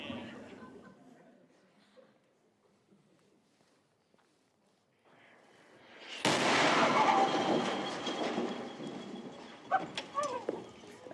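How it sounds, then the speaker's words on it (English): American artillery test firing is heard outdoors as a heavy, rumbling boom that swells loudly midway and then rolls on, followed by sharper reports, with birdsong and pigeon coos faintly present in the quiet before. "Americans test firing."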